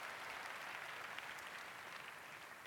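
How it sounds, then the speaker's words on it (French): Applause from an audience at a religious gathering with a whole college choir present, a continuous even patter of many hands heard faintly and from a distance, with no voices over it. "Applaudissez-les, s'il vous plaît."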